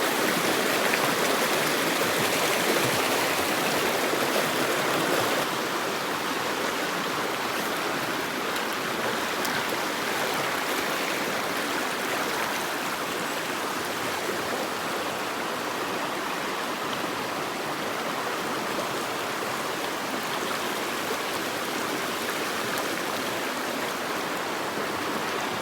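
A mountain stream with a stick-strewn bottom rushes and burbles nearby in a steady, full wash of water that holds for the whole stretch without talk.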